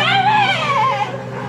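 A dog whimpers in a high, wavering whine that rises and falls, close and fairly loud, fading out after about a second.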